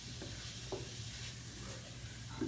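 Spices for a vegan pasta sizzle softly in a pan, a faint steady frying hiss broken by a few light stirring scrapes.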